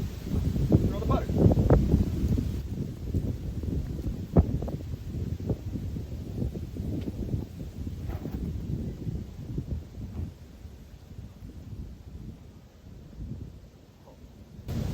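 Gusty wind on the Scott City Park disc golf course in Missouri produces a low, uneven rumble that buffets the microphone for the whole stretch, easing near the end, with faint voices now and then.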